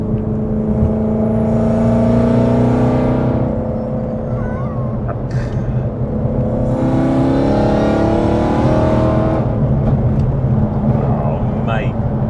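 An 862bhp supercharged Ford Mustang GT accelerating hard on an open public road, its loud engine rising through gears in repeated climbing sweeps with brief shift gaps, heard from inside the car.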